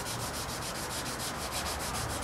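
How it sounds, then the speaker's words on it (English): Steady rhythmic sanding of gelcoat on a fiberglass boat repair, a rough scratchy rubbing repeated in quick even strokes, close up with no voices. "sanding it down and blending it in with the existing gel coat"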